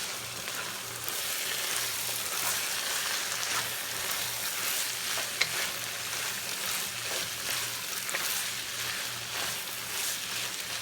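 Empanada filling being stirred in a hot frying pan, a steady sizzle and frying crackle running throughout with soft scraping stirs, close and moderately loud, no voices.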